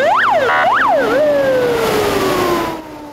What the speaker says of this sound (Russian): Сирена, сообщение об эвакуации.